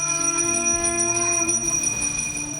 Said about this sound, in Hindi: घंटी और घड़ियाल